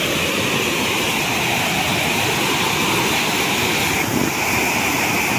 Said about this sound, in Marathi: पूर्ण जे डॅमचं स्लोपपासून वरतून पाणी पडतं